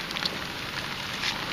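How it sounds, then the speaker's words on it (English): Steady outdoor rain falls in a broad, even hiss with faint scattered patter, continuous and fairly soft, with no voices. "It's raining right now."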